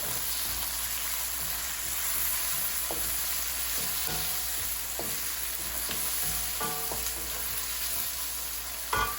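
Tomato and salt sizzle steadily in a frying pan for a pangasius fish dish, a continuous close crackle broken by a few soft utensil clinks and stirring scrapes, with no voices.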